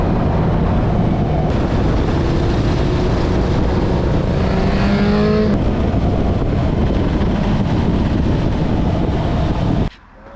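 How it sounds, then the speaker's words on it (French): Kawasaki Z motorcycle ride with friends, the engine droning steadily beneath heavy wind rush, a tone briefly rising mid-ride before the noise cuts off abruptly near the end. "on va aller faire un tour de moto"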